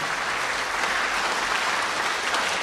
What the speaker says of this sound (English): Let's give all of those a round of applause as well for all their hard work.